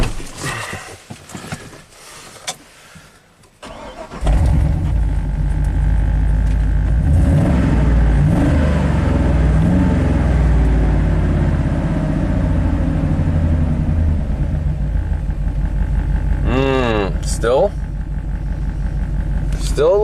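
Chevy dump truck with a Vortec V8 idling with a slightly shaky misfire, a loud, close, continuous rumble that starts after a few seconds of handling noise and runs steadily to the end.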